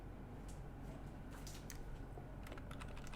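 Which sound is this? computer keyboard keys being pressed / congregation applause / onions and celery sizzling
computer keyboard keys being pressed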